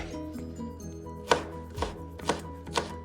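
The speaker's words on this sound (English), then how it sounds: "So once we've peeled our garlic, we're just going to take and just give it some fine slices." A knife cuts fine slices through peeled garlic on a cutting board, four crisp separate chops spaced about half a second apart, close and clear over a faint background hum.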